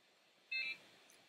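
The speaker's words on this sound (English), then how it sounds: "So we listen for our double beep." A short, quiet electronic beep tone from a satellite phone hanging up sounds once against faint background hiss, with a very faint second chirp soon after.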